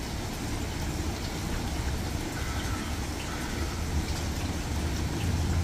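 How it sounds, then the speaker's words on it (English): Steady rain falls outdoors in a yard on a wet day, a continuous even hiss of drops on surfaces with no talking. "It's raining on Easter"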